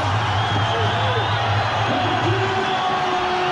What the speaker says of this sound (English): The biggest crowd in Australian Muay Thai history is giving it up to the biggest star of all